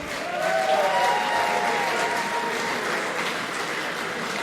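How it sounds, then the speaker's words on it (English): A big round of applause from an audience at a boxing event, sustained and dense throughout, with a couple of whistles rising above the clapping early on. "Can I get a big round of applause for all these going out tonight"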